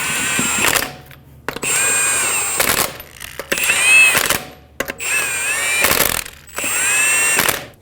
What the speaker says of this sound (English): Get the lug nuts started. Snug the lug nuts down.